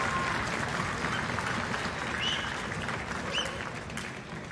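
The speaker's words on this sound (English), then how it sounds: "Let's give them a nice round of applause." An audience in a high school auditorium applauds at an all-district student orchestra concert, a sustained, fairly soft wash of clapping that tapers slightly toward the end.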